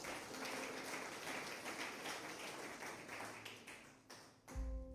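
A church congregation claps their hands together as an offering of praise, a dense sustained patter of many hands at moderate distance, fading out near the end.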